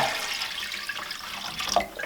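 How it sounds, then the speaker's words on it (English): Water pours into a cooking pot holding fish that soaked overnight, in a log cabin kitchen, a soft continuous splashing stream with no voices. "I'm going to add some more water right now to cook it"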